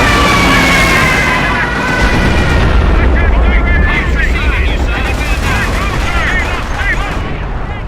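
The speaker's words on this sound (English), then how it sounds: "Is that hamster actively dropping artillery on the team stuff?" Artillery fire in the war game Europe In Ruins: loud, dense rumbling blasts and gunfire fill the scene, while a voice talks over the barrage.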